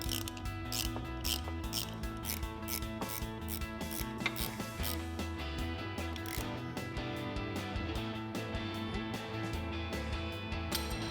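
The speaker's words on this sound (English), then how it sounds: "We're going to grab our 16 mil ratchet wrench. Go ahead and tightening this down." A 16 mm ratchet wrench clicks rapidly and steadily while tightening a brake caliper bolt on a 1999-2002 Ford Mustang. The close, continuous ratcheting is heard alone.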